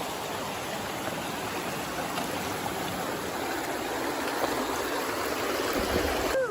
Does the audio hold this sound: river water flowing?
yes